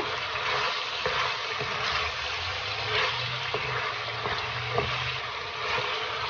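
Meat frying in a pan for a Nepali meat pickle, a steady close sizzle with bubbling crackle and occasional stirring clinks, no talk.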